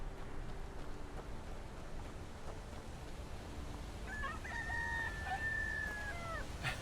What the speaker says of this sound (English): I hear the roosters crowing